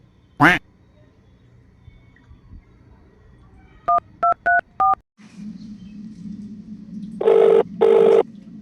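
Telephone keypad tones as a call is placed: four evenly spaced dialing beeps, then a low hum and two longer ringing tones, loud and close, after a brief sharp noise at the start.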